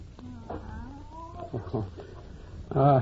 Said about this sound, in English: That's just Professor Kimberly's cat